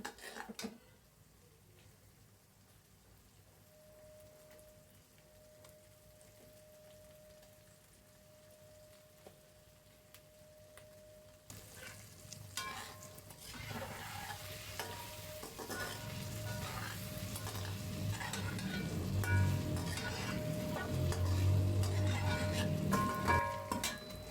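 Quiet kitchen background, then a loud, steady sizzle of hilsa fish frying in hot oil starts abruptly and keeps crackling, growing slightly louder.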